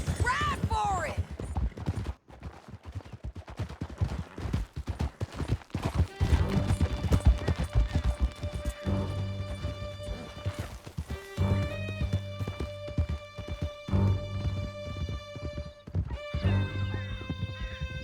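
Horses gallop at speed in a Red Dead Redemption 2 canyon chase, hooves pounding in a dense rapid rhythm with whinnies and scattered distant gunshots, under music and occasional talk.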